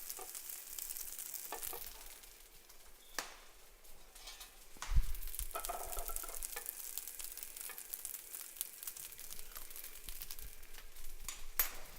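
Rice frying in a pan while being stirred, a continuous dry sizzle broken by scraping and clattering stir strokes, with a louder burst of scraping midway, close and fairly quiet.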